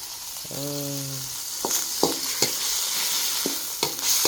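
Pork being stir-fried in a pan for a pork dish with asparagus and mushrooms, with a steady sizzle under a series of spatula scrapes and knocks against the pan, plus a short tonal squeak near the start.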